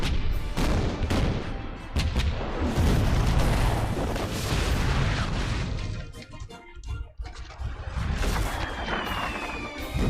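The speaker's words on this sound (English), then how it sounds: "Prepare to run out the guns. On my command, fire!" Cannons firing in a Shogun 2 Total War battle, loud overlapping booms and cracks of a rapid volley rolling into a rumbling barrage, with a brief lull before more blasts.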